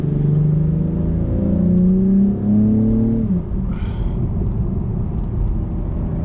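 An Acura TLX Type S engine revs up loudly and close, its pitch climbing, then dips briefly before the steady roar pulls on again through a corner.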